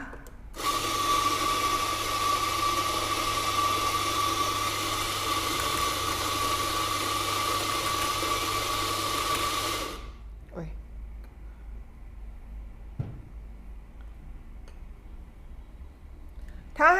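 An espresso machine brewing a double shot whirs loudly and steadily for about ten seconds, then cuts off, leaving faint clicks and low background hum, with someone speaking quietly.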